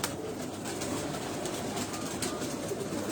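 Pigeons in an indoor loft coo steadily in a low, continuous murmur that fills the space, many birds overlapping at close to middle distance with no talk.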